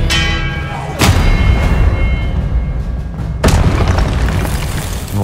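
Hogwarts Legacy spell combat: two heavy magical booms, each with a ringing, bell-like tail, land loud and close a couple of seconds apart over a rumbling game soundscape.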